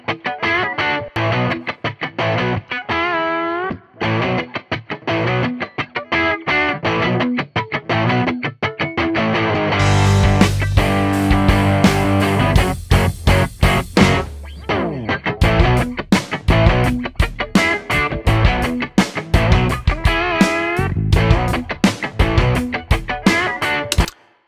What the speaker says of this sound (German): durch diesen Hall kommt die Gitarre schon wesentlich prominenter rüber und wesentlich größer rüber